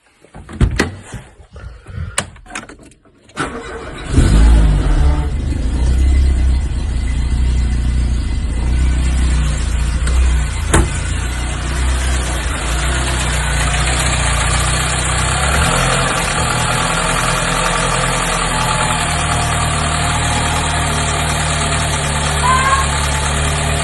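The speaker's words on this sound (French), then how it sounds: "Sur la voiture, on va démarrer." A Peugeot 205 GTI engine cranks briefly after some clicks and handling noises, catches, and settles into a steady, loud idle that runs close by for about twenty seconds.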